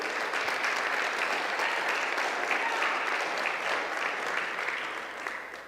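A church congregation breaks into steady applause during a sermon, many hands clapping in a dense, bright roar that holds strong and then tapers slightly toward the end, with no talk over it.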